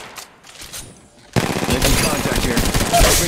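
Sustained automatic gunfire from the mobile battle royale game Apex Legends Mobile, starting abruptly after a quieter moment and continuing loud and dense as rapid bursts.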